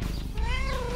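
A cat gives one clear, rising-and-falling meow that stands alone and fairly close, lasting about a second.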